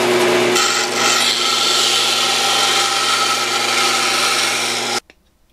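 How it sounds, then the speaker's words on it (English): A belt sander grinds the rough edge of a carbon fiber part with a loud, steady, harsh whir that holds for about five seconds and then cuts off sharply. "I can grind up to the line with the belt sander."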